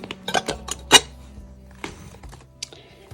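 Small ceramic plates clink and knock as they are handled and set down, a cluster of sharp contacts at first, then sparser quieter taps.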